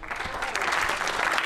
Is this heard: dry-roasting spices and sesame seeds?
no